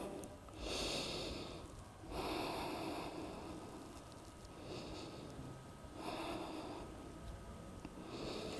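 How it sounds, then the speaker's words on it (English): Deep, slow breaths taken while resting face down during a Pilates core session, several long inhale-exhale cycles that are soft and close, with no talking. "3 deep breaths here."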